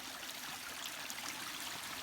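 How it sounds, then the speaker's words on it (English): A small stream trickling through a wilderness ravine on wooded land on the Kitsap Peninsula, a soft, steady hiss of running water heard alone and fairly faint. "This is our nice little water stream."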